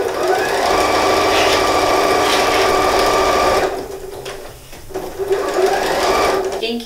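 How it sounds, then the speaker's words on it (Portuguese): A sewing machine runs fast and steady, stitching the side edges of a bath mat in patchwork fabric, pausing briefly mid-run before resuming its loud, even whirring hum. "eu vou para a máquina de costura, eu vou fazer pezinho de máquina nas duas laterais."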